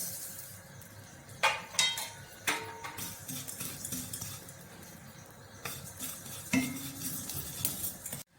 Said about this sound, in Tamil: எள்ளு நல்லா பொரியுது.